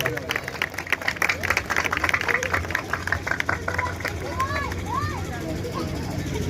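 At a church Christmas meeting, a crowd claps loudly to welcome guests: dense rapid clapping that fades into hubbub and talk toward the end.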